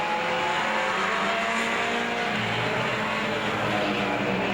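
Race cars in a Super Bees heat at Veterans Raceway Park roar around an oval track, a dense, continuous engine drone from a pack running single file, loud and steady throughout without any talk.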